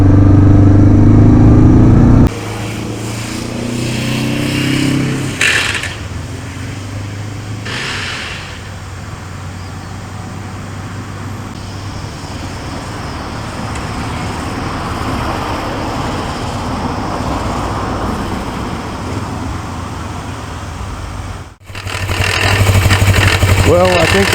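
A rare 1980s Suzuki GS 450A automatic motorcycle with a failing transmission idles and revs, its engine a steady loud drone with rattling, briefly cut and restarted, while people talk nearby.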